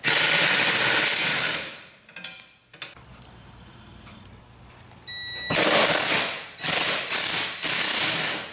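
A ratchet clicks rapidly while removing the rear sway bar from a BMW E46 race car, loud close bursts of ratcheting separated by a quiet stretch with light metallic clinks.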